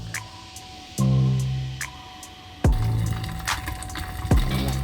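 A gas-fired popcorn machine, a 2021 model making sweet popcorn, gives three loud, sharp cracking pops spaced a second or two apart over a steady mechanical hum.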